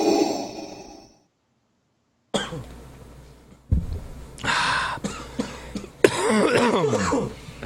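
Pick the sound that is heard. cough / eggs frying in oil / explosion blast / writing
cough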